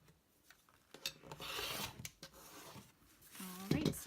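Rotary cutter or scissors trimming the last side of a fabric quilt label, giving short rasping, rubbing cuts in a few bursts, close and moderately loud, with a brief voice near the end.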